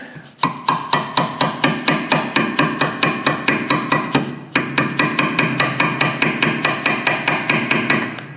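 Steady, rapid metallic hammer strikes on Hyundai Santa Fe rear brake parts ring out one after another, loud and close, with a brief pause near the middle before the pounding resumes.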